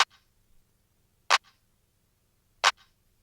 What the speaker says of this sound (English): On 2 and 4, we have a clap from a 707 Roland drum machine